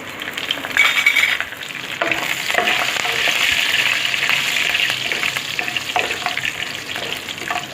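Curry leaves fry in hot oil with masalas for spinach rice, giving a loud, continuous sizzle and crackle close by, with occasional spoon scrapes and light clinks against the pan.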